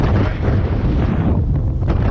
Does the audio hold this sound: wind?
yes